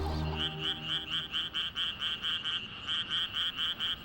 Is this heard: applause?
no